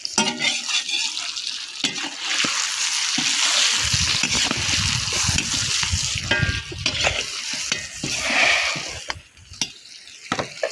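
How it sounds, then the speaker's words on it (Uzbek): Food being stirred in a pot with salt just added, scraping and clinking of a utensil over steady sizzling, moderately close, with a few brief splashes and no talking. "Endi aralashtirib olamiz."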